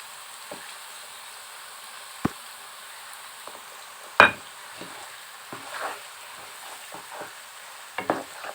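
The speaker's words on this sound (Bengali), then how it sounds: "এবারে পেঁয়াজ আর রসুনটাকে সুন্দর করে তেলে নাড়িয়ে একটু ভেজে নিব।" Onion and garlic paste frying in oil as a spoon stirs it, with a soft steady sizzle and scattered scraping clicks and one sharper knock, close and moderately quiet, no voices.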